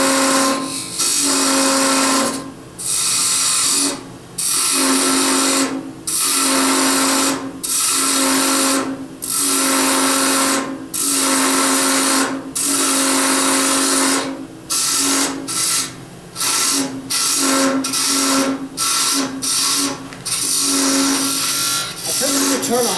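Lathe turning and parting off a pewter finial, a loud steady rasping cut broken into regular bursts with brief pauses, close and dominant while a voice speaks intermittently.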